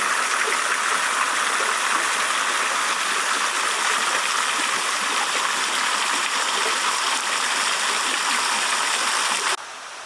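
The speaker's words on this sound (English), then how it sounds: "Another little tiny water system here in a courtyard." Water runs steadily through a small fountain system in a villa courtyard on a hilltop in Italy, a continuous close splashing rush that stays even throughout before dropping away abruptly at the very end.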